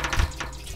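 A brief watery splash and dribble as water is dropped while watering plants in a video game, close and fairly loud, lasting under a second.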